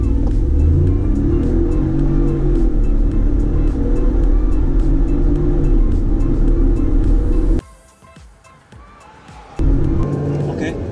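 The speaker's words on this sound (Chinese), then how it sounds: "OK， 接下来这辆车我们已经切换到了运动模式，我们来试试看它的0到100加速表现是多少。" A 2020 Proton X50 accelerating from 0 to 100 km/h in sport mode gives a steady, loud engine drone heard from inside the cabin. The noise dips briefly as the gear changes, then resumes.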